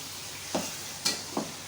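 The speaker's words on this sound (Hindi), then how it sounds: "इसके साथ अच्छी तरह से फ्राई करें चिकन को।" Chicken frying in a pan with garlic, ginger and green chilli paste, a steady soft sizzle broken by three brief spoon scrapes as it is stirred, close and fairly quiet, no talking.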